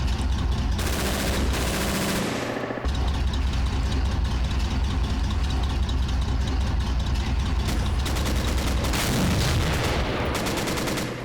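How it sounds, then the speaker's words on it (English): Machine gun fire in the war strategy game Men of War, loud sustained bursts of rapid shots over a constant engine rumble, with a short break partway and renewed bursts near the end. "Take out as many as I can with MG fire."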